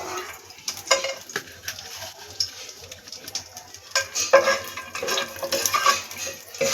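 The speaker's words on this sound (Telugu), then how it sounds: "దోరగా వేయించుకోవాలండి." Cashews fry in two spoons of hot ghee in a pan, giving a soft sizzle under scattered clinks and scraping stirs that grow busier toward the end, with no talking.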